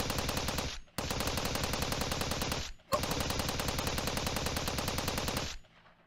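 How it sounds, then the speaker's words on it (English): Sustained automatic gunfire from American soldiers in the Steins;Gate 0 visual novel, loud and dense in three long rattling bursts with brief gaps, cutting off abruptly near the end. "Shimiyama's scream was cut off by the sound of gunfire."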